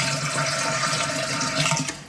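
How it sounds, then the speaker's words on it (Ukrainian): Cold water pouring steadily into a pot over jars of homemade condensed milk, a loud continuous splashing gush that fills the whole moment without pause. "І тепер я заливаю це все діло холодною водою"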